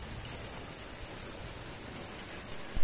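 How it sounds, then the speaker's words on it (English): Thunderstorm rain beside patio walls: dense, steady, close hiss of falling rain with no thunder or talking. "So we both love the rain, obviously. That's why we're recording it."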